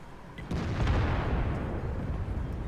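A heavy boom as a tank shell strikes the turret of an enemy tank in World of Tanks, a sudden low impact followed by a sustained rumbling roar that slowly fades.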